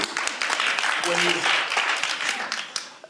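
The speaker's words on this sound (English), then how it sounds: "Could I get a round of applause for that?" A Davos panel audience at the World Economic Forum gives a round of clapping, a sustained dense patter that briefly overlaps with a voice midway and eases slightly toward the end.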